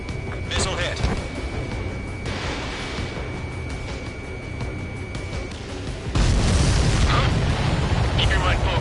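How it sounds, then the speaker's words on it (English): A missile strikes its target and explodes in a combat video game, a loud booming blast that erupts partway through and rumbles on heavily to the end, following a steady roar of engine noise. "Missile hit."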